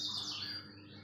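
Kaso-kaso songbirds give a bright, high chirping call that slides and fades within a second. It sounds close and clear over a faint background hum.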